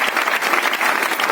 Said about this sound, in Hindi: जोरदार तालियां धनशीला मैम और सुरेंद्र सर के लिए,